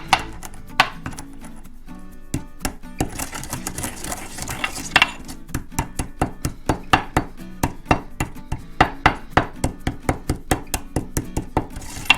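Spices for Chinese chili oil ground by hand in a steady, rapid series of sharp, close grinding strikes that speed up toward the end, with no talking.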